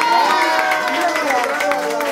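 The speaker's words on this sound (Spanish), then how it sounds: "fuerte los aplausos, que se escuchen." A crowd at a 60th birthday party applauds for don Pedro, the clapping steady and close and blended with loud cheering and voices throughout.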